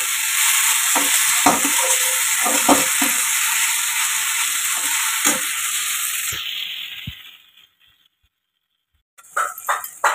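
Maggi noodles stir-fry in a pan with a loud, steady sizzle and occasional scraping stirs, then the frying fades to silence before a few clattering knocks at the end.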